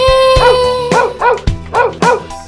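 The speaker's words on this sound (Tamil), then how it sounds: "அழகும் நாயும் வீட்டிலே" A dog barks several times in quick succession over a bouncy children's rhyme backing, the barks loud and close in an otherwise wordless stretch.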